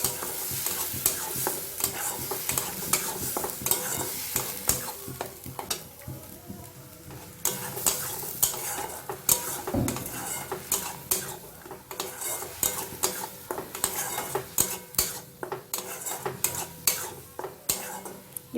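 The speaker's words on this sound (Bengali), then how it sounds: "এটা একটু ভেজে নেব।" Onion, ginger and garlic paste frying in a pan, a steady loud sizzle broken by frequent sharp spoon scrapes and clinks against the metal, close and busy throughout.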